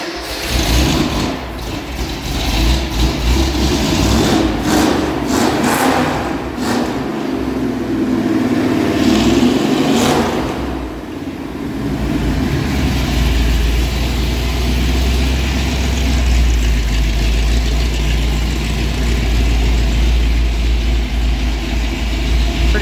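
Newly swapped engine in a 1967 Ford bumpside truck, running untimed with an unadjusted carburetor, loud and continuous, with rough revving early on that settles into a steady, rumbling idle.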